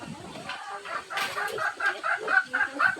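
Chickens cluck and murmur steadily, with overlapping bird calls forming a busy, continuous farmyard bed of sound.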